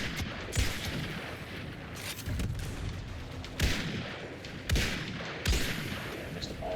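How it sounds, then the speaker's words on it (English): Cycler rifle shots in a first-person shooter video game. Five sharp, loud reports come at irregular intervals over a steady background of game noise, each with a brief echoing tail. "Yeah, I missed all those shots."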